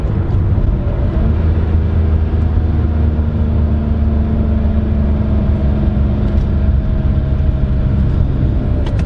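An older sports car without ABS drives along, its engine giving a steady, loud, low rumble with sustained tones and road noise throughout.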